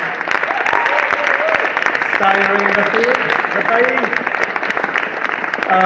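Audience applause for visual artists at an evening arts event in the Tacoma armory, steady clapping throughout with cheers and voices rising over it.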